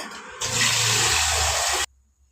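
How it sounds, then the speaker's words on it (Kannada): Water tipped from a mixer jar onto rice for pulao makes a loud, steady splashing gush lasting about a second and a half. It stops abruptly, followed by near silence, and no voices are heard. "ಮಿಕ್ಸಿ ಜಾರಲ್ಲಿ ಬಂದಿದ್ವಲ್ಲ ಅದೇ ಮಿಕ್ಸಿ ಜಾರಿಂದಾನೆ ನಾನು ನೀರನ್ನ ಹಾಕ್ತಾಯಿದ್ದೀನಿ"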